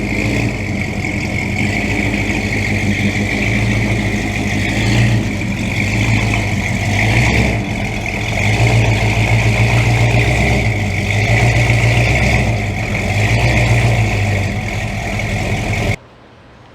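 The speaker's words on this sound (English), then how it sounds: "let me go get the old four-wheel drive and get it hooked up" An old four-wheel drive truck's engine runs close by, a loud steady idle with a few gentle rises in revs before cutting off abruptly near the end.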